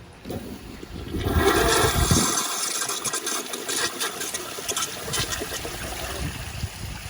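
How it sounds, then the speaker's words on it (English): A Kohler Kingston toilet gives a weaker flush: a rushing burst of water for about two seconds, then a steady, softer draining trickle that carries on to the end. "This flush will be quite a bit weaker."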